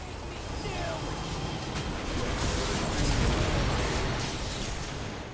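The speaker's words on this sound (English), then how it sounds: "Red team's turret has been destroyed." A turret being destroyed in League of Legends: a sustained, crackling blast of rumbling debris that swells to a peak midway, then eases off, with a voice faintly present in the mix.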